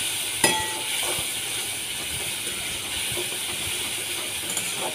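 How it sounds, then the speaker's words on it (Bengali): A pan of onion, tomato and spice paste with cumin and coriander water fries for a jackfruit and prawn curry, giving a steady, loud sizzling hiss throughout, with a brief clatter near the start. "এটা থেকেও কিছুক্ষণ আমি কষিয়ে নেব।"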